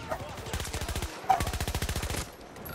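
Rapid automatic gunfire in a Battlefield match: two long bursts of evenly spaced shots rattle off close and loud, separated by a short pause, with faint game noise underneath.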